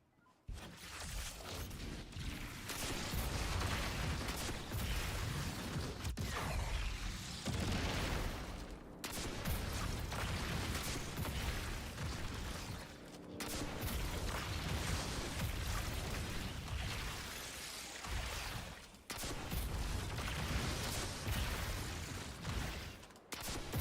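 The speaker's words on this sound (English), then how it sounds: "so I'm just throwing my nade at the ground" Grenade blasts and gunfire in the tactical shooter Ready or Not, a dense, loud barrage of booms and pops repeating in bursts across the whole stretch with brief gaps between.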